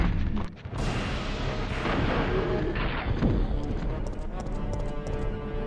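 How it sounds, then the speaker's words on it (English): Explosions in the PlayStation game Resident Evil, a loud continuous rumbling blast texture with a sharper burst near the start, dense and sustained without any talk. "Explosions don't affect Jill"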